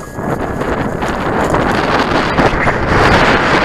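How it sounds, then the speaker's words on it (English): Strong wind roars and buffets a microphone steadily throughout, a dense loud rushing that slightly intensifies toward the end. "Pretty windy up there"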